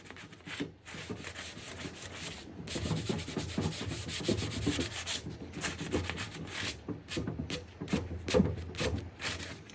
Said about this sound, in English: sanding grit sandpaper sponge just to lightly sand out the primer